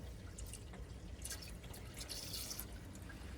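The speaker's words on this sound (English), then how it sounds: "So we're going to pour some down the sink." Liquid trickles and drips down the sink drain of an Airstream camper van, a quiet, steady wet pour with small splashes and no voices.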